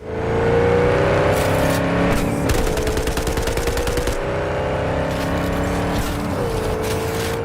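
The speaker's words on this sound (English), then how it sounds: "Driving." A car driving in Cyberpunk 2077, a loud steady engine drone with rising pitch that drops at gear changes, interrupted by bursts of rapid gunfire.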